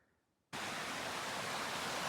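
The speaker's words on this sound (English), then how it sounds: "Here at the creek, which comes out of the drain tunnel that I'm about to go explore." Creek water flowing out of a hydraulic mining drain tunnel at Malakoff Diggins, a steady broad rushing wash that cuts in suddenly after a near-silent start and continues evenly.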